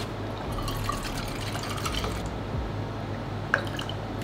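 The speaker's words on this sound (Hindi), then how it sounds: "इसमें करेक्ट दोनों में 200 ml पानी जाएगा" Water is poured into two protein shakers, 200 ml in each, giving a steady close-up splashing fill with a few drips and one sharp tap near the end.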